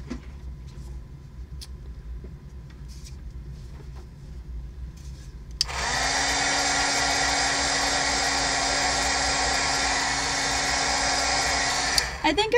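A hair dryer switches on partway through and runs loud and steady, drying thick layers of paint on homemade scratch-off cards, after a stretch of quiet room tone.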